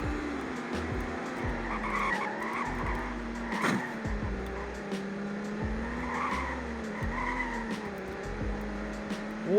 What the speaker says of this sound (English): This car kind of becomes a drift machine.